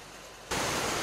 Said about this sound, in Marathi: पाऊस खूपच वाढला अचानक.